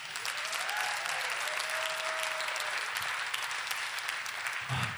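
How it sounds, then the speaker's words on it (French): Audience applause in a church service, a thick sustained wash of many people clapping with faint cheering or whistles rising above it, holding steady and loud throughout before easing slightly near the end. "ça mérite une main d'applaudissement"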